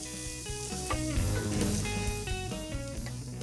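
Onion, carrot and celery sauté together in a pan as aromatics for beet soup, a steady close sizzle running continuously throughout.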